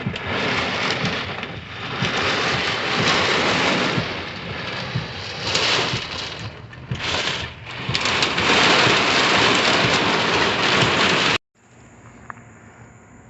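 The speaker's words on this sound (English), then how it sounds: "the wind's starting to really pick up and it's hailing" A loud, steady storm roar of wind and pelting hail near a creek, rising and falling in waves, then cutting off abruptly near the end to a quiet hush.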